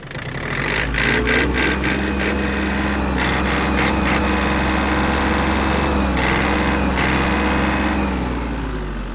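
A Yanmar RS-270 mini tractor's small engine runs loud and close, its pitch rising as it is revved and held at higher speed before easing slightly.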